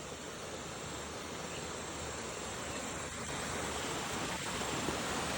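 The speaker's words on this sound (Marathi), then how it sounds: "हे बघा किती पाणी चाललं इथं" Floodwater rushes through village fields after a cloudburst, a loud, continuous roaring wash that swells slightly toward the end, with no talking.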